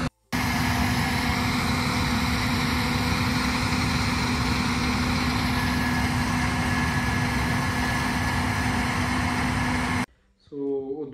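Combine harvesters working in farm fields produce a steady, loud mechanical engine drone with a constant hum that holds unchanged for about ten seconds before cutting off abruptly.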